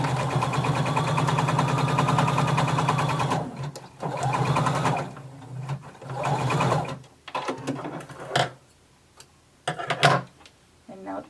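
Sewing machine running a steady stitch for several seconds along a 1 1/4 inch hem across the bottom of fabric, then stopping and restarting in shorter bursts with handling noises between.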